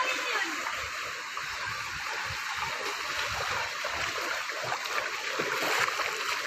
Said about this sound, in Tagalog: Napakalakas ang agos ng tubig oh. Delikado dito.